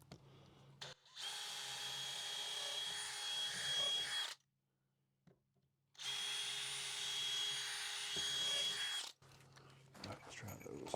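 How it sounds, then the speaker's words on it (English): A power drill boring angled holes while fitting out a bus conversion, two sustained loud bursts of whirring motor noise separated by a brief pause, with quieter handling sounds and faint talk around them. "Drill these damn holes at an angle"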